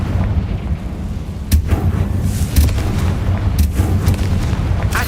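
Confringo blast spells cast in the video game Hogwarts Legacy, heard as a few booming explosive impacts over a constant rumbling game background, loud and close.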